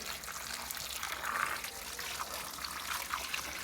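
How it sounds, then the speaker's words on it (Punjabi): Water draining and trickling from a tilted container of wheat grain, a soft continuous dribble at a fairly low level with a few faint splashes. "ਚੱਲ ਇੱਕ ਪਾਸੇ ਨੂੰ ਟੇਢੀ ਕਰਦੇ ਹੋ ਪਰਾ ਸਾਰਾ ਪਾਣੀ ਨਿਕਲ ਜੂਗਾ"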